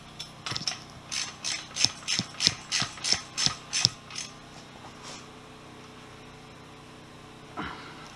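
A ratchet wrench tightens the lock nut on a HotBits coilover, about a dozen evenly spaced metallic clicks close up, then stopping, with one faint knock after a pause and no talking.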